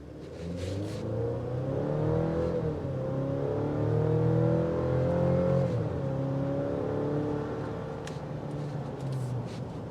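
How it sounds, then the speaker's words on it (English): A turbocharged 2026 GMC Canyon Denali pickup engine revs and accelerates hard, its rising drone climbing in pitch through gear changes, heard steadily from inside the cab. "I'm just showing you the performance you get out of this turbocharged engine"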